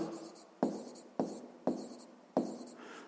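A pen scratches across paper in short strokes, four distinct taps and scrapes spaced about half a second apart, close and quiet, with no talking.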